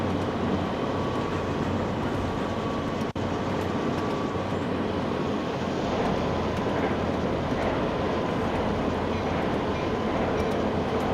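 A commuter train in a railway video game rumbles steadily along the tracks toward Jamaica Station, a continuous loud rolling drone with a brief clank near the start.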